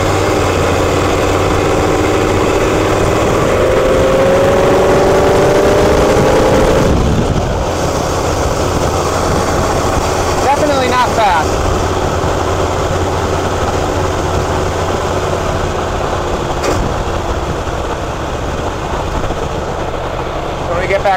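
A 1973 Ford Econoline engine with an Edelbrock carburetor idles loudly and steadily at close range, its pitch shifting slightly as the idle changes, with someone talking over it.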